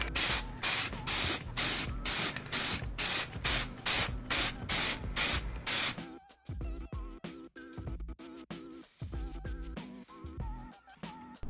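Black spray paint from a budget aerosol can coats a Lexus LS400 fender in a quick run of rhythmic, close hissing bursts, then quieter, sparser sprays with small rattles between them.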